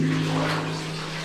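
Water rushes steadily down into a septic sump tank, a broad, even wash of flow heard close with a low hum running underneath.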